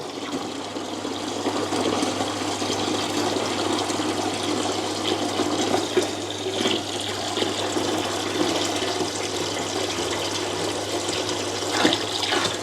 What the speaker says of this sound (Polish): Czy pompka wypompuje wodę z sampa?